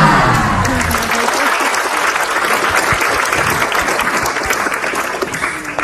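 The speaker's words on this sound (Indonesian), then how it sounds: "Lihat kompaknya tepuk tangan karena sudah latihan." Audience applause fills a religious talk-show hall, a dense, loud, sustained wave of clapping that holds steady throughout, with faint speech beneath it.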